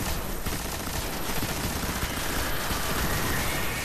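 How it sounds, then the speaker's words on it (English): Heavy weapon fire in the Destiny video game, a sustained burst of rapid shots at moderate level that runs the whole stretch, dense and unbroken, with no talking. "I'll get my heavy weapon out for him."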